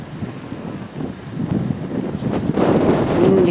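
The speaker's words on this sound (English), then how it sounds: "Windy today, but not real cold." Wind gusts across an iceberg-filled bay in Antarctica and buffets the microphone in a steady, loud, low roar that grows toward the end.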